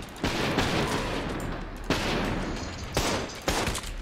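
Automatic weapons fire in the first-person shooter Trepang 2, a sustained rattle of rapid shots punctuated by several sharp, heavier blasts, loud and close.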